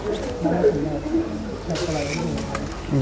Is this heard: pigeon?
yes